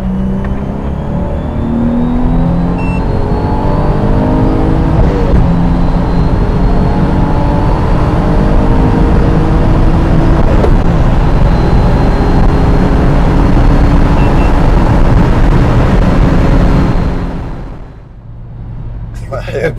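A right-hand-drive Nissan 350Z fitted with a ProCharger supercharger accelerates hard, its loud, sustained engine roar climbing in pitch through the gears before dropping away abruptly near the end.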